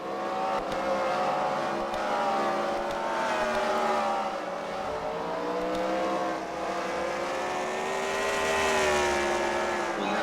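Race cars roar around an oval track during a heat race at the Freedom Factory, their engines droning steadily with rising and falling pitch as they circle, loud and continuous throughout.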